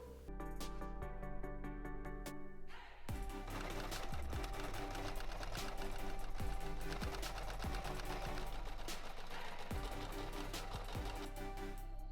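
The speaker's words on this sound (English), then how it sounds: "So now I'm going to serge everything." A serger overlocks fabric pieces for a shirt, a fast rhythmic mechanical chatter that runs nearly continuously and close, after a short burst of lighter ticking at the start.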